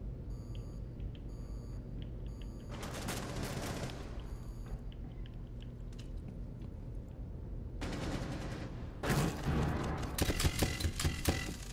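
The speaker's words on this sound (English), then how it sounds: "Well, they're shooting at someone." Rapid bursts of automatic gunfire in a multiplayer shooter game, two dense volleys with quieter beeping electronic tones between them, close and loud with no talking.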